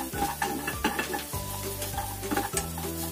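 Minced garlic frying in a pan, a steady close sizzle with a low hum beneath, broken by scraping stirs of a utensil against the pan at regular intervals.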